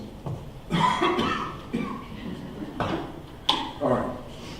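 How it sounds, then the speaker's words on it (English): A man's coughs and throat noises break out in a series of short, rough bursts, some near and sharp, between brief pauses in a quiet room. "I got that cough just right there that wants to come out"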